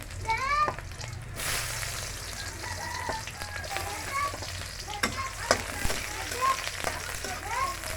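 Plenty of garlic frying in hot oil, ahead of onion and red amaranth greens: a dense, crackling sizzle with a sharp scrape of stirring, while someone talks over it in the foreground.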